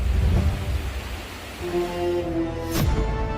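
Heavy torrential rain during a destructive downpour in Bageshwar, a steady dense hiss of rainfall close by with low rumbling and a brief sharp burst near the end.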